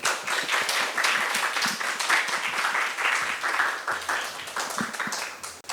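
Audience applause welcoming a guest speaker at an academic lecture on research methods, steady dense clapping throughout, fairly close and moderately loud with no talk over it.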